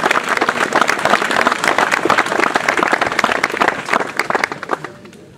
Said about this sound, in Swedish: Jag tycker ändå vi ska ge personalen en jättestor applåd för arbetet